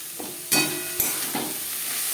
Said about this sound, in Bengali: দু তিন মিনিট মশলা ভেজে নেওয়ার পর দিয়ে দেবো গাজর বাঁধাকপি